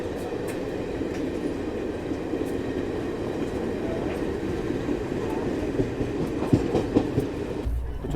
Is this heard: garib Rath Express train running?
yes